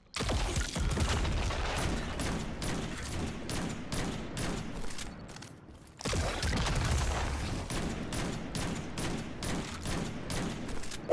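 Supremacy and Parasite weapons fire in rotation in Destiny 2, a dense run of rapid booming shots and blasts in two long bursts separated by a brief pause, loud and continuous.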